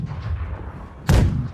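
Ship cannon fire in the pirate naval game Blackwake: a single heavy booming shot bursts out after a low rumbling background, loud and close, with no voices.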